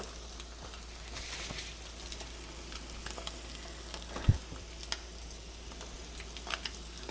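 Egg frying in a pan for a homemade breakfast sandwich, giving a soft, steady sizzle with a few faint utensil clicks near the end, no voices.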